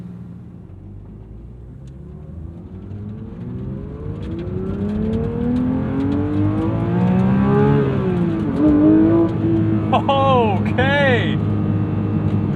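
A Porsche 911 GT3 (992.2) engine with the sport exhaust open, revving hard toward 9,000 RPM, its pitch sweeping up and down through downshifts and sharp blips, loud and close inside the cabin, with a brief spoken word near the start.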